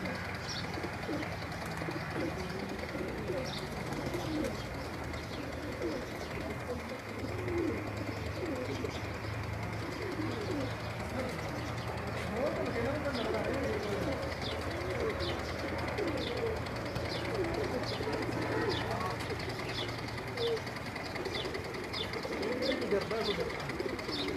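Pigeons coo repeatedly on a rooftop at a pigeon-flying tournament in Punjab. Soft, rhythmic coos and occasional chirps run over a constant murmur of outdoor background noise.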